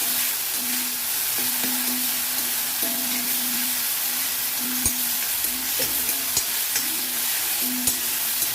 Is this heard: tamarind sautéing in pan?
yes